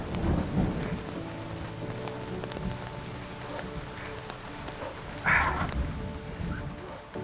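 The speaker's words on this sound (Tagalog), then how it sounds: "Nako, naabot pa ako ng ulan." Heavy rain pours steadily, with deep rolling thunder rumbling through the downpour and a sharper crack midway, loud and close, with no talking.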